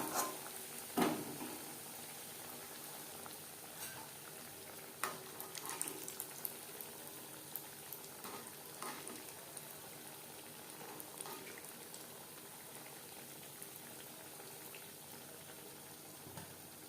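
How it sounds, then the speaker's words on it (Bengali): Vegetable chops fry in hot oil in a kadai, giving a quiet, steady bubbling sizzle with a few faint clicks and taps scattered through it. "একটা সাইড ভাজা হয়ে গেলে অপর সাইডটা উল্টে দেব"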